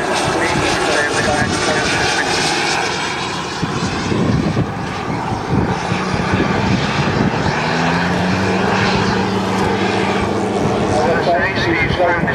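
Model Dakota airliner with lights on flying a long pass into the wind at a scale model air show, its engine droning loudly and steadily with a shifting pitch as it passes, with talk over a public address.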